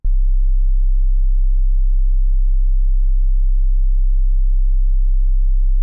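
A sustained sub-bass sine tone from a Serum 2 synth patch in Ableton, one steady, loud, pure low note held unchanged for several seconds with no other sound.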